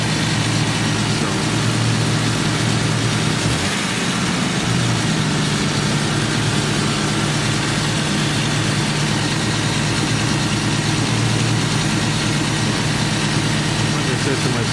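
Jeep engine idling and racing, a loud continuous mechanical drone with a brief dip in pitch early on before settling into steady high revving, with a voice talking over it.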